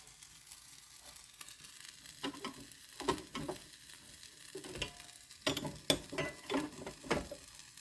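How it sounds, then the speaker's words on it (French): Small wrap, or wap, frying in a pan, a faint crackling sizzle with scattered pops and light stirring clicks. "Hop, le petit wap, on le met dans la poêle."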